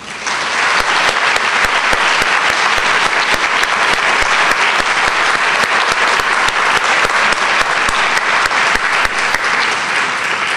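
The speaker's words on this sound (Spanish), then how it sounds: "para que pida un fuerte aplauso" A live concert audience breaks into loud, sustained applause, dense clapping filling the whole stretch at a steady level with no voices on top.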